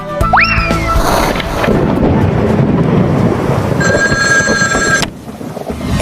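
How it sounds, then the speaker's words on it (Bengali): A cartoon telephone rings in a shrill, electronic burst after a quick rising whistle, over a rumbling background, then the ringing cuts off. "যাই, বল্টুকে ফোন করে ডাকি।"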